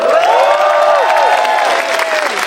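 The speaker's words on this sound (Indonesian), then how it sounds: "dan tepuk tangan juga buat Indonesia yang sudah mengumpulkan sementara emas terbanyak" A crowd applauds and cheers loudly, with high excited shouts and whistles layered over continuous clapping through the short stretch.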